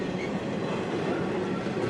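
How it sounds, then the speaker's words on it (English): A lone Norfolk Southern locomotive rolls into the intermodal section of Watkins Yard, giving a steady, close rumble of engine and rail noise with faint wheel clatter throughout and no talk. "the lone engine will then enter into the intermodal part of Watkins Yard"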